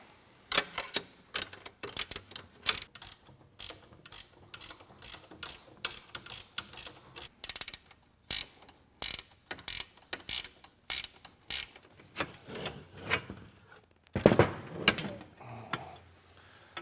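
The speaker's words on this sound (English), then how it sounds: "Use a 1/2-inch end wrench, and if you have one that actually is a ratcheting end wrench," A 1/2-inch ratcheting end wrench loosens seat bolts on a Jeep TJ, giving close, sharp clicking bursts in quick runs separated by short pauses, alone and fairly loud.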